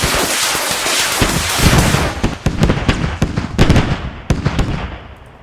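Artillery fire and shell impacts in the combat game Squad: a dense roar of blasts gives way to a rapid series of sharp, loud cracks and booms in irregular bursts that fade out at the end.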